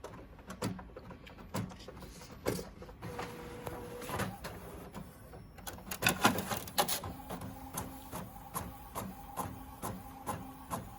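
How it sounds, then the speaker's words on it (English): A sublimation printer prints out designs at night, close up, with whirring carriage passes, clicks and mechanical clunks in an uneven rhythm, with no talk. "Okay, so it's printing out right now."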